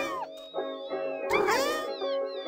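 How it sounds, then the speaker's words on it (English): Several kittens meow in quick overlapping cries inside the game Quadrilateral Cowboy, loud and close, with a busier burst of mewing in the middle over a steady musical backdrop. "It looks like I'm joined by so many kittens."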